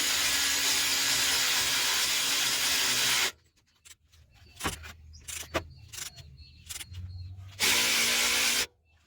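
Impact tool or power tool tightening the alternator adjuster lock bolt on a Mitsubishi Pajero/Montero: two loud sustained bursts of whirring hiss with a quieter stretch of clicks and knocks between them.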